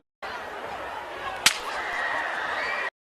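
A single sharp gunshot at an outdoor Trump campaign rally in Butler, Pennsylvania, one loud isolated crack cutting through continuous crowd noise and shouting.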